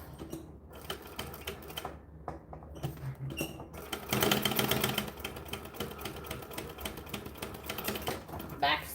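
A sewing machine stitches a bag with a steady mechanical chatter that swells louder midway, running under background talk.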